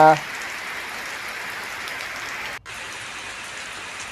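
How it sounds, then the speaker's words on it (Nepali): Rain in a Nepali village gives an even, moderate hiss of falling water, broken by a brief dropout partway through, following a short burst of sound at the start. "यो पानी परेको दृश्य देखाउँदै छु।"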